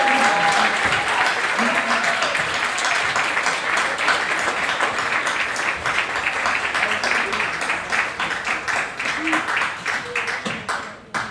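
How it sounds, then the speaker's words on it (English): Audience applause fills a school athletic awards ceremony, steady dense clapping throughout that tapers slightly toward the end, with some voices mixed into the crowd noise. "One more round of applause for Tuera."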